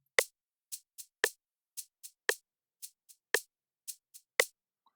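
Two layered worship percussion loops, the second mixed quieter, play a steady rhythmic pattern of crisp, short hits, with louder accents alternating with softer, lighter strikes across the five seconds and no voices.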